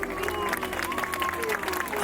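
A crowd at a backyard ultra race in the vineyards claps steadily, the dense patter of applause filling the whole moment with a faint tone lingering beneath it.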